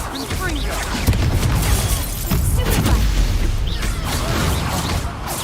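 A Confringo blasting spell in the Hogwarts Legacy video game, a loud, rumbling, sustained explosive roar with crackling bursts that fills the whole stretch without a break.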